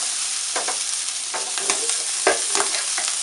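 Bacon frying in a pan toward crispness for Korean black bean noodles, a steady close sizzle broken by a few brief scraping stirs, no voices.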